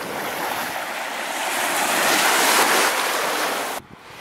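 Baltic Sea surf washing onto the shore, a loud broad rush of breaking waves swelling and then cut off abruptly near the end, with wind buffeting the microphone.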